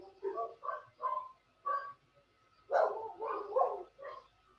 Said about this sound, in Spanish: ¿se escuchan muy fuerte los perros?